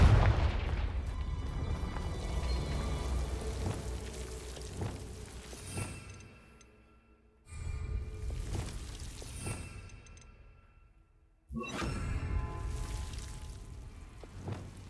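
Confringo fire spells from Hogwarts Legacy burst in three separate rounds. Each opens with a sharp, heavy boom and rolls off into crackling rumble before a short lull, with no voices.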